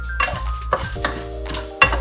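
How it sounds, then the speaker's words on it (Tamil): Whole coriander seeds and black peppercorns dry-roasting in a pan without oil, with a few scraping stir strokes and light rattling of spices against the pan, fairly close and quiet, with no talking. "முதல்ல இந்த தனியா விதைகளையும் மிளகையும் போட்டு லேசா வறுத்து எடுத்துக்கலாம்"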